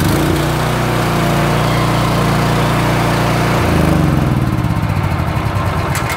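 An engine-powered 250 bar, 15-litre pressure washer starts up and runs, a loud steady petrol-engine drone that shifts in pitch partway through as the motor settles, continuous and close with no talking.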